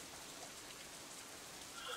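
Steady rain in the visual novel Katawa Shoujo, a soft, even hiss of drops falling on surfaces, faint and continuous with no voices.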